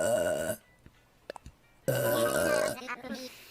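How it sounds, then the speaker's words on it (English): A woman lets out two long, loud, close burps separated by a quiet gap with a few small clicks, the second trailing off into softer throat noises. "You know I burp when I'm hungry."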